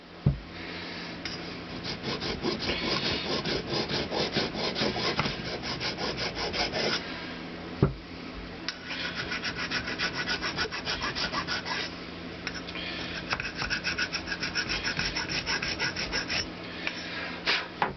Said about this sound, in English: Use the simple file.